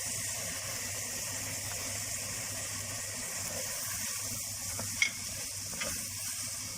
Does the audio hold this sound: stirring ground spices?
yes